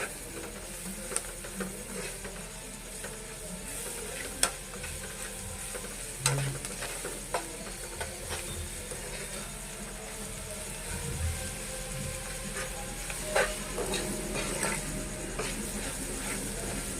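Crushed garlic chili powder frying in a hot pan while being stirred, a steady close sizzle with scattered clicks and scrapes of the spatula running throughout, no talk.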